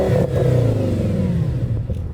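An Audi S8 engine revs up and then settles, a deep, throaty roar with falling pitch as the revs drop back toward idle, close and loud, with no voices over it.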